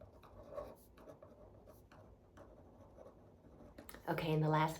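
Handwriting on paper, a faint steady scratching of pen strokes throughout, with a louder burst of voice near the end.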